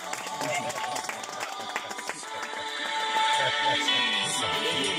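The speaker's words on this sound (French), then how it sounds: "On acclame le Seigneur. Acclamons le Seigneur." A church congregation at a Sunday baptism service in Becedi-Brian cheers and claps together to acclaim the Lord, with crowd noise swelling louder midway into a sustained roar of applause and voices.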